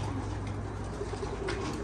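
Pigeons coo with soft, low, repeated calls over a steady background hum, close enough to be clear but not loud, with no talking.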